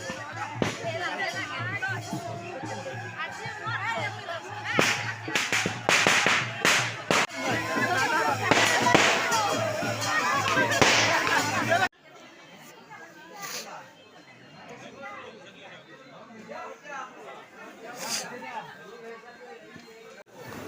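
Firecrackers burst at a wedding in Nalbari, giving sharp, scattered cracks over a loud crowd babble with people chatting throughout. The noise drops abruptly midway to quieter background chatter, with a few more distant pops.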